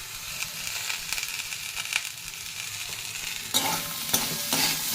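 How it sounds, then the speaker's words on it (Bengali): Spices such as ginger, cumin powder, coriander powder and turmeric stirred in a hot cooking pan, giving a soft continuous sizzle with scattered scraping strokes that grow a little louder near the end, close by. "আর কিছু না, এবার নাড়তে হবে"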